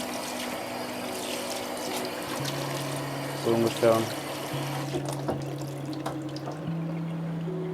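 Clear water from a tap runs steadily over a photo print in a darkroom sink during the RA4 colour process, with a brief louder splash midway, while someone speaks briefly.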